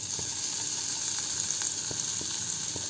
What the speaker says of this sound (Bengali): তেলটা এখানে গরম হয়ে গেছে, তো এখানে আমি সমস্ত গোটা মশলা দিয়ে দিলাম।